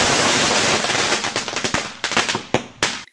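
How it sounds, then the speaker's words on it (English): A piston device explodes in the Block Story video game, giving a crackling burst that breaks into several sharp firecracker-like pops over about three seconds, loud and close. "Pushing this button again will cause the two pistons to try and retract from each other, and what will happen is your device will explode."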